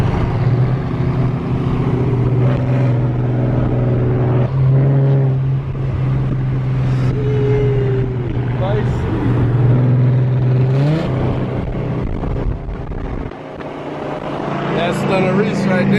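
Jeep Trackhawk and Dodge Hellcat engines at a car show, a loud steady rumble with rising revs that runs the whole time, under crowd noise and people talking nearby.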